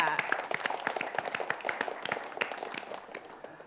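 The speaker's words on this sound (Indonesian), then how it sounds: "Tepuk tangan untuk guru-guru kita." Applause for teachers on a televised quiz show, a short burst of crisp, closely miked individual claps from a studio audience that taper slightly as it goes.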